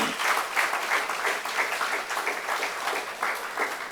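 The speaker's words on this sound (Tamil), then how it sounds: "நல்லா கைத்தட்டினது சாருக்கு." Sustained audience applause fills a hall during a Sri Ramakrishna Jayanthi discourse, a dense steady wash of many hands clapping at moderate distance with no pauses.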